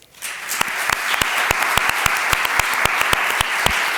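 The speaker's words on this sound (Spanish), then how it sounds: "le vamos a dar, por favor, un aplauso muy, muy fuerte" A lecture audience bursts into loud, dense applause for a speaker on Djuna Barnes, steady and sustained throughout with individual sharp claps standing out.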